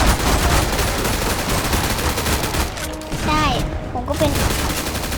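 Continuous gunfire from players fighting zombies in Roblox Zombie Stories, dense overlapping shots and bursts filling the whole stretch, loud and close, with brief excited voices in between.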